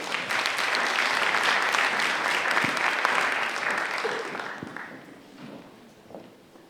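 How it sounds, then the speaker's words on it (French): Audience applause at a grand opening event, a dense steady patter of many hands clapping that gradually thins and fades toward the end. "Applaudissements."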